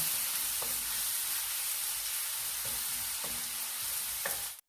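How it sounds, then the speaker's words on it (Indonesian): Curry spice paste fries in hot oil for a shrimp and pomelo curry, a dense steady sizzle with a few faint utensil taps and stirring sounds, heard alone with no talk. "Setelah minyak panas, kita akan goreng bumbu."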